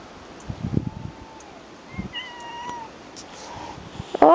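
A neighbour's cat meows outdoors in a few faint, drawn-out calls spread across a quiet yard with rustling, then a sudden louder noise at the end.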